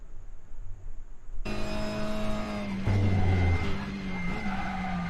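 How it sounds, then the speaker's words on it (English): A Renault WTCR touring car in the RaceRoom racing game, driven on the Nürburgring, accelerates hard out of a corner. The loud engine whine climbs steadily through the revs, with a brief low thump partway through and no talking. "Second gear, patient on the throttle. Accelerate out."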